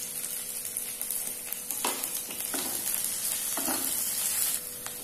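Green chillies and capsicum frying with onions and dry spices in a pan, a steady hiss broken by a few louder sizzling bursts and stirring scrapes, close and continuous with no talk.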